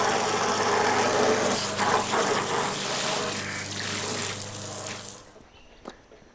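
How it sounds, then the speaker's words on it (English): A lawn mower engine runs nearby in a garden setting, a steady loud broadband drone that fills most of the stretch before cutting off abruptly near the end, leaving quiet with a small knock. "the mowing calmed down"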